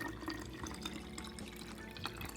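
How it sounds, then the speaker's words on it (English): Water pours into a drink bottle already holding pre-workout powder and a liquid IV mix, a steady quiet trickle and gurgle of filling liquid with no talking. "I'm gonna go ahead and just put some water in here"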